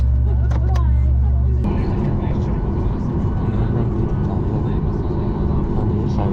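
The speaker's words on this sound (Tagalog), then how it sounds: "Guys, paalis na yung aeroplano." A FlyDubai airliner departing, heard from inside the cabin: a steady, loud broadband engine roar settles in after a brief burst of nearby talk and keeps droning evenly throughout.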